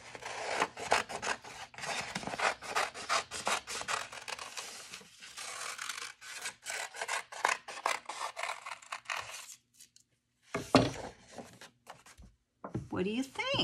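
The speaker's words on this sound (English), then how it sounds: "This is good for practicing your cutting skills. Cutting out an Easter egg." Scissors snip through paper to cut out a hand-drawn Easter egg shape, giving a long run of close, raspy rhythmic cuts and rustling, with a pause near the end and a voice talking briefly afterward.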